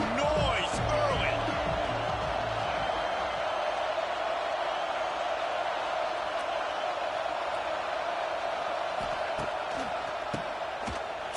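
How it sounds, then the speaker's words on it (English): A football stadium crowd roars in a steady, dense wash of cheering that fills the whole stretch, with a commentator's voice over the noise at the start. "crowd bringing the energy and noise early."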